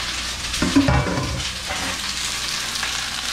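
Vegan hot Italian sausage with peppers and onions hits a hot pan, a sudden burst of loud sizzling and crackling that settles into a steady, close fry.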